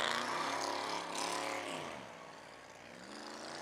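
A drift car at a Big Indian drift event revs hard on track, a loud, rough engine roar with rising and falling pitch that fades slightly as it moves away, continuous throughout.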